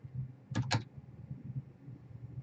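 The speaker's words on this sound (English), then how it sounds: "let me go ahead and type this command" A command being typed on a computer keyboard: a quick, quiet burst of a few keystroke clicks in an otherwise calm room with a low background hum.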